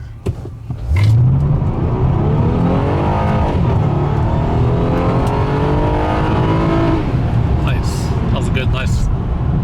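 A 2014 Honda Accord V6 accelerates hard toward redline, its engine note climbing steadily in pitch for several seconds before backing off. The sound is loud and close from inside the cabin, with a voice talking over it.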